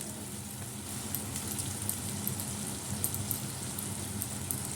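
Mustard greens and spinach hiss and sizzle steadily in a hot pan, a constant crackling wash with faint popping, close by and with no talking.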